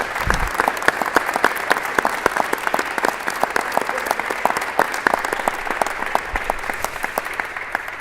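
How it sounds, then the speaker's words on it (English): A room full of people at a dodgeball tournament press conference applauds steadily. The dense, even clapping holds for several seconds with no talking over it. "So please join me in giving a great round of applause"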